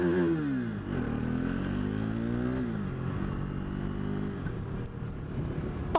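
A car engine rumbles close by on a narrow road, its pitch rising and falling as it slows and moves past, with a steady loud drone throughout and a brief clatter at the end.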